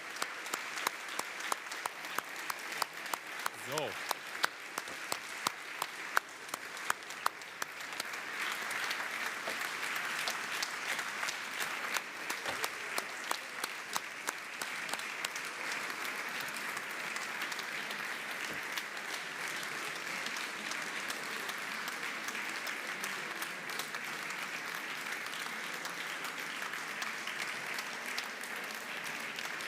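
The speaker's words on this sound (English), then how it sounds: "give out this team warm applause" A large audience gives a team warm, sustained applause at a Circular Valley demo day, the dense clapping carrying on for about half a minute. A voice is briefly heard near the start.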